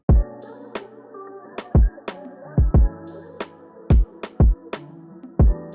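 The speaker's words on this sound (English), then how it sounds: "Next, I chucked in another perk." A pitched percussion hit tuned to C repeats sharply through a looping soul beat, sitting among deep kick thumps, an open hi-hat shimmer and sustained chords, loud and clean with no talking.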